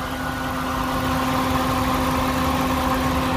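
A 2009 Dodge Durango's 4.7 V8, a former police vehicle, idles steadily with a loud, even hum and a constant tonal drone, heard up close with no speech.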